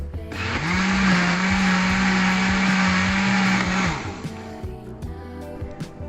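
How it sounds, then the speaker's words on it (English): An electric blender whirs loudly for about three seconds while blending a pulpy coffee-paper mixture, a steady high motor drone starting and stopping abruptly, followed by quieter clattering. "blend the mixture using a blender"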